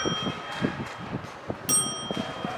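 A bell rings on a street in Heerlen, steady high tones sustained over passing footsteps and ambient bustle, with a brighter strike partway through.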